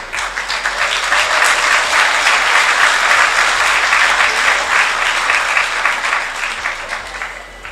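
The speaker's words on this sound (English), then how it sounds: "A round of applause again for the first presentation" Loud, sustained applause fills a hall at a Jamaican PNP political manifesto presentation, dense clapping from a large crowd holding strong throughout before easing slightly at the end.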